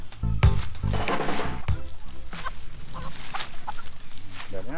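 A flock of free-range chickens is herded into a small paddock, clucking and squawking close by in irregular bursts while people talk over them.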